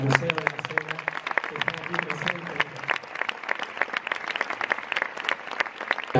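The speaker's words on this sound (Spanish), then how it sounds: "Pido un fuerte aplauso para el Museo de la Seda que está aquí" A fashion-show audience on La Palma gives strong applause for the Silk Museum. The crowd's clapping is sharp and crackling, and a voice talks over the first half before the applause carries on alone.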